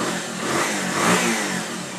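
A Bajaj Pulsar motorcycle engine runs close and loud on a workshop stand, holding a steady throbbing drone that swells slightly in the middle, with no talk over it.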